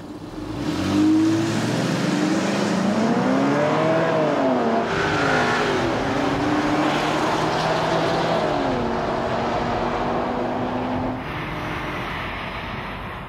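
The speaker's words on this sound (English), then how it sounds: "a video that our engineers put together using a prototype Taurus with an EcoBoost V6 compared against some recognized competition" A prototype Ford Taurus with an EcoBoost V6 engine drives against rival cars, its engine revving and shifting repeatedly with rising and falling pitch, loud and close throughout, with a brief quieter tail at the end.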